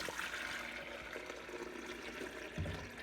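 Water is poured slowly into the reservoir at the back of a drip coffee maker, a steady splashing trickle heard close up that swells slightly near the end, with no talking.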